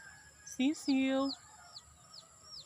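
A pet chick peeping for attention, wanting to be held, giving a couple of loud, close high cheeps followed by fainter chirps against a quiet indoor background.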